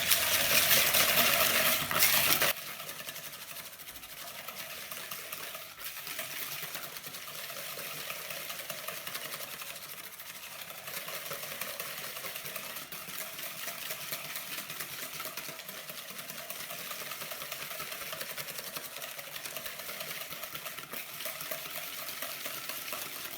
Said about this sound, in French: Là, on va blanchir les jaunes d'œufs.